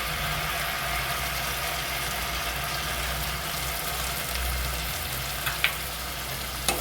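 Tomato paste fries in hot oil in a pan over a low gas flame, giving a dense, even sizzle throughout, with a few faint clinks near the end.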